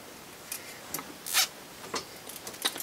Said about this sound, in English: We're going to tie off the top and use a zip tie